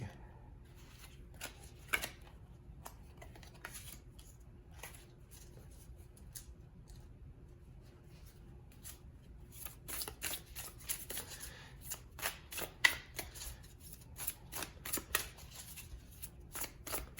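Tarot cards being shuffled, soft riffling and crisp flicks, sparse at first and then busier and louder toward the end, with no voices.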